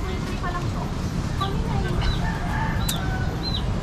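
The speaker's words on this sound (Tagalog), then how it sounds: "Yung mga manok dito, oh." Chickens clucking in a noisy outdoor setting on a grape farm, with short scattered calls and voices murmuring in the background.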